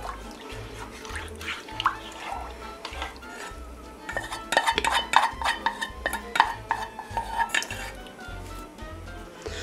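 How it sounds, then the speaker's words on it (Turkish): Flour and liquid are mixed into dough in a bowl for spinach and kashar cheese mini pide, with steady close stirring and scraping broken by sharp clinks of utensil on bowl that grow busier and louder midway. "İyice şöyle bir karıştırayım."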